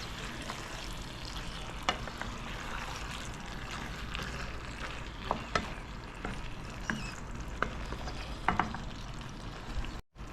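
Sweet and sour chicken with pineapple sizzling gently in a pan while being stirred, soft scraping and clicking utensil strokes popping up irregularly over a continuous low frying hiss, fairly quiet and close.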